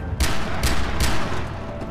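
.44 Magnum revolver shots in Far Cry 3, three evenly spaced sharp cracks roughly 0.4 seconds apart over a steady background rumble.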